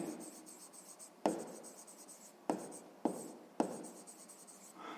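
A pen or pencil writes out a maths equation by hand on paper, with a steady soft scratching broken by four sharp taps or strokes spaced a second or so apart, close and quiet, with no talk.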